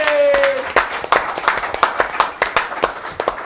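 A studio audience claps in a dense burst of applause at first, thinning into scattered, separate claps toward the end.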